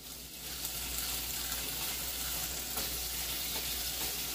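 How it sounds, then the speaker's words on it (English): Hash browns fry in melted butter in a pan, giving a steady, dense sizzle that stays even and close throughout, with no voices. "once that butter's melted, I'll take some hash browns and dump them in there"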